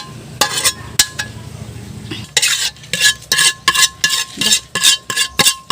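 Fried anchovy paste (bagoong) being scraped out of a well-used frying pan with a metal utensil, a series of sharp, close scraping strokes in a fairly steady rhythm after a few earlier clinks, with no talking.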